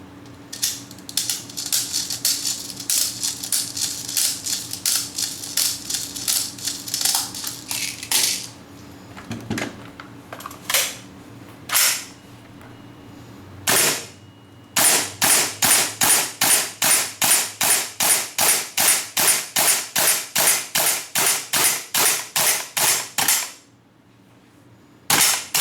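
A WE SCAR-H gas airsoft rifle fires loud, sharp cracks up close, at first in irregular single shots and short bursts, then in a fast even string of rounds that stops as the gas runs out.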